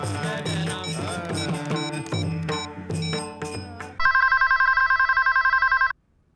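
A telephone rings in repeated bright electronic bursts, loud and close, following a stretch of music, with no talking.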